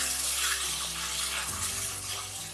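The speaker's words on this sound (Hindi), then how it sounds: "मैंने मिक्सर में जो मसाला पीसा था उसी में हमने पानी डाल दिए" Water pours steadily into ground spice paste in a continuous splashing stream, close and fairly loud, with a low hum underneath.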